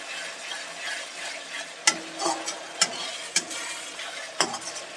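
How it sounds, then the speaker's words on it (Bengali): Ground spices frying in a pan for chicken curry, a steady close sizzle broken by several sharp scrapes and clacks of stirring. "প্রত্যেকটা মশলা দেওয়ার পর অল্প অল্প করে ভেজে নিতে হবে।"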